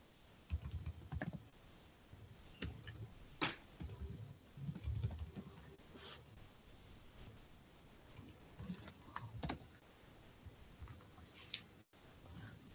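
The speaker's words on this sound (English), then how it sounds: "Just type the file name completely." Typing a file name on a computer keyboard: steady runs of light key clicks with short pauses and a few louder taps, close and fairly quiet, with no talking.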